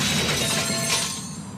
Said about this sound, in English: This is the sound of a brand new outdoor grill being hurled off a 20-story building.